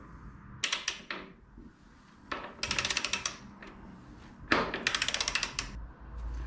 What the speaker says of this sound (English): take your 36mm socket and long wrench to undo the rear axle nut here